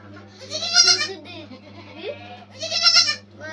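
A goat bleats close by in two strong wavering cries with a softer call between them, loud against a low steady hum.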